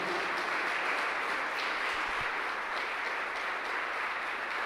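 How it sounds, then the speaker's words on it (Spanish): Dense, steady applause from a church congregation at a Sunday service, filling the whole stretch, loud and continuous with no voices standing out. "Denle un fuerte aplauso al Señor."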